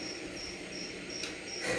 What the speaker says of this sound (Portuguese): Tem um grilo cantor aqui na live hoje.